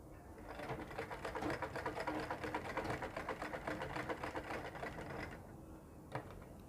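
A sewing machine runs a rapid, steady stitching rhythm along the edge of stiff buckram for about five seconds, close and clear, then stops with a couple of faint clicks.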